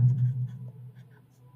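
A pen writes out a worked solution on paper for a class 10 statistics problem, a brief, close scratch of strokes that fades toward the end.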